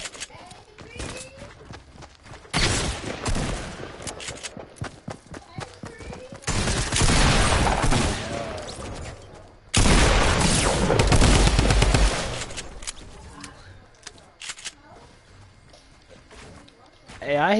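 Gunfire in a video game, heavy bursts of shots in several loud volleys, with people talking over the action between bursts.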